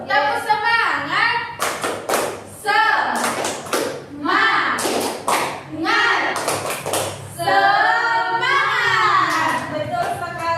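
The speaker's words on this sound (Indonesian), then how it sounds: "Oke, kita tepuk semangat dulu. Yes. Tepuk semangat." Classroom children perform the "tepuk semangat" clapping chant, sharp rhythmic claps in bursts mixed with loud chanting young voices, close and lively throughout.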